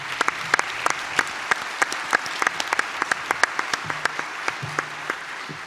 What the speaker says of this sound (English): Can I just give them a round of applause?